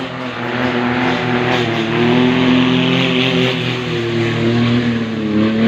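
A boat engine drones steadily with a low, harmonic hum that swells slightly as it passes along Khlong Don Lao canal in the early morning, continuous throughout with no voices.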